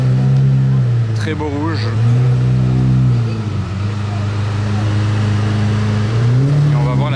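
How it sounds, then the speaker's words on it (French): A red Ferrari with a non-original aftermarket exhaust resonates loudly nearby, a steady deep drone with a brief rev swell, while a voice talks over it. "Je vous garantis déjà d'avance que l'échappement n'est pas d'origine, vu comme elle résonne"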